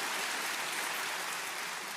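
An audience at a talk claps together in a dense, steady burst of many hands, continuous and fairly loud for the whole moment, with no speech over it.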